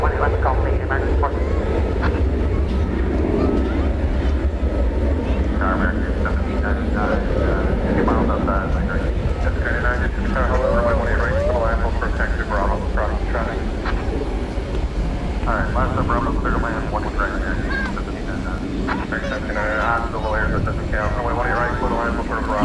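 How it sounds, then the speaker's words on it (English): An Airbus A321 in America West livery, Flight 1430 bound for San Francisco, at DFW Airport at night, gives a loud, steady jet engine roar throughout while people talk over it. "He's going to San Francisco, Flight 1430. It's an Airbus A321 with the America West"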